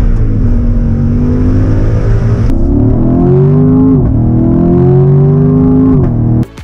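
A Ram TRX truck's engine on a test drive revs loud and close, its deep tone rising in two steady climbs with a brief shift between them before it cuts off at the end.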